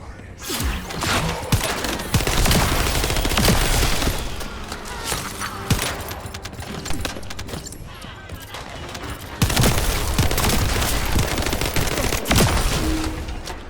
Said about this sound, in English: These guys are shooting me.